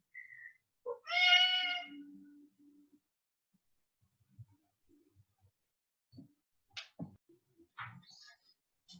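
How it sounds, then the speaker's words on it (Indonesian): A cat meows a few times, one long drawn-out meow standing out clearly, followed by softer scattered mews and small rustling sounds. "ada iklan suara kucing"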